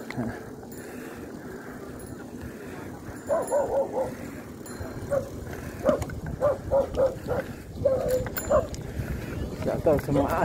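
Dogs bark in short repeated bursts, some yipping, moderately close, over a steady background of people talking.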